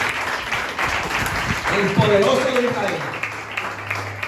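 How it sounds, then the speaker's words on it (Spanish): A church congregation applauds in a broad, sustained wash of clapping while a preacher's voice speaks over it, with a low tone swelling near the end. "Ahora, denle ese aplauso fuerte al poderoso."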